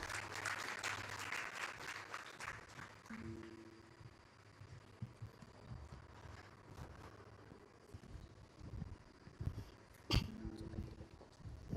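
Clapping from an audience at an Andhra Pradesh investors summit in Mumbai, welcoming the Deputy CEO of the AP Maritime Board. Fairly faint, densest at the start, then thinning into scattered claps and room noise.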